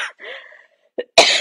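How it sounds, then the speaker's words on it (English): A woman coughs during a live Q&A stream: a short throaty burst, then after a brief pause one loud, harsh cough close to the microphone. "Still coughing like crazy, even though I'm testing negative."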